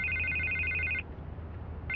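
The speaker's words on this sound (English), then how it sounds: "I can't get the phone to stop ringing." A telephone rings in the Batman: The Telltale Series game with bright repeating electronic trills. It rings steadily for a second, stops briefly, then starts again, alone with no talk.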